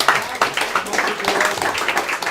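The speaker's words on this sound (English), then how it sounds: "Can we clap that up?" A group claps in a quick run of sharp, close hand claps during a boys soccer team gathering, fairly loud and steady for a couple of seconds with a little voice mixed in.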